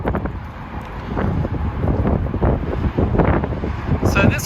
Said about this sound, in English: I do also apologize for the wind